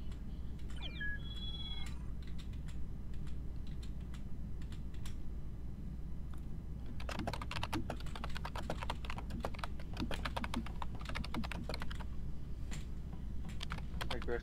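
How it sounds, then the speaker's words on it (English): Aggressive, fast typing on a computer keyboard with the microphone sitting right on top of it, a steady stream of close, sharp key clicks over a low hum, with a few faint tones near the start. "Aggressive keyboard."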